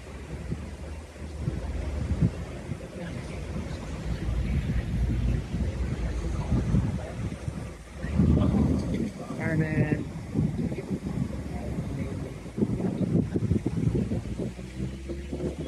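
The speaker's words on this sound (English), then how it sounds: "So the wind is blowing this kind of away from me" Steady wind buffeting the microphone outdoors near a commercial grease fire at a food plant in Portland, a continuous rumbling roar with gusts, and voices talking through parts of it.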